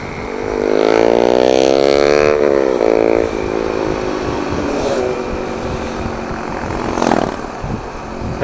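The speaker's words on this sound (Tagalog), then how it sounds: "Traffic. Daming mga motor." Motorcycles and traffic pass at night on a road, engines revving loudly nearby with rising and falling pitch as they go by, overlapping one after another, then a quieter rumble with a brief sharp burst near the end.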